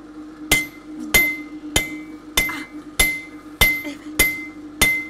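Hammer blows on hot metal while forging, eight sharp ringing strikes at a steady rhythm about every 0.6 seconds, close and loud, each with a bright metallic clang over a low background hum.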